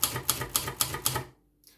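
A Silver Reed manual typewriter gives six quick, evenly spaced mechanical clacks close to the mic while its ribbon direction is switched, then falls quiet.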